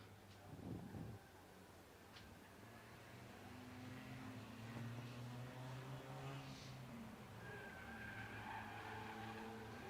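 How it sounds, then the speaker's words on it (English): Race car tires squeal through a turn at Grand Bend Speedway during a night race, a sustained screech over distant engine roar, fairly faint and far off. "you can just hear the tires squealing here when that car takes the turn"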